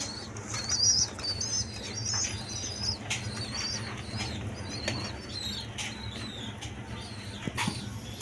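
High-flying Giribaz pigeons kept in a loft, soft coos and bursts of wing flapping over a low steady hum, with a few sharp clatters and chirps scattered through.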